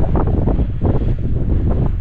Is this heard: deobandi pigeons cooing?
no